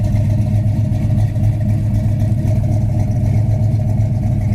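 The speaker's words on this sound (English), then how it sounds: "Exhaust sounds good." A 1969 Chevy Chevelle SS idling with its exhaust burbling, a deep, steady, loud rumble with a regular low pulse close by and no talk over it.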